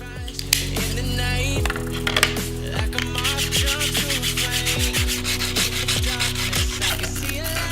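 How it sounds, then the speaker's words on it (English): Sandpaper rubs briskly back and forth across a 3D printed figure, a steady run of short scratchy strokes close up with no voices. "grit sandpaper, smoothing all that out"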